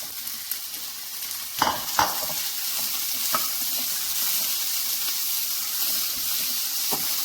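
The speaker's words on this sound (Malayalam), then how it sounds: "1 തക്കാളി ചെറുതായി അരിഞ്ഞത് ചേർത്ത് കൊടുത്ത് ഒന്നും കൂടെ ഒന്ന് വഴറ്റിയെടുക്കാം" Finely chopped tomato sautés in a pan, a continuous sizzle broken by a few distinct clinks and scrapes of stirring, fairly close and with no talk.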